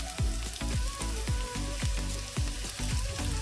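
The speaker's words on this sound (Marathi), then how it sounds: "कांद्याचा पूर्ण कच्चेपणा जाईपर्यंत आपल्याला कांदा तेलामध्ये फ्राय करायचा आहे।" Onion fries in oil for sev bhaji, a low continuous sizzle broken by regular spatula scrapes and taps roughly every half second, close and fairly quiet.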